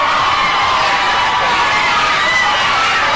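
A loud, dense crowd at a Pride march cheers and shouts continuously during a fight, with overlapping voices forming a steady roar that never lets up.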